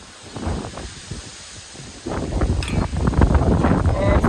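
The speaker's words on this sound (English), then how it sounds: "Oh, it's windy today." Gusty wind on a farm buffets close by, rustling and rumbling, growing stronger and more constant partway through.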